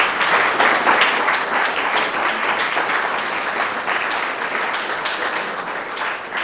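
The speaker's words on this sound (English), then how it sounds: "Let's give these ladies and gentlemen a great big round of applause." Audience applause at a school board meeting for All-State Chorus members, a full, sustained round of clapping from a sizable crowd that starts strong and gradually tapers over several seconds.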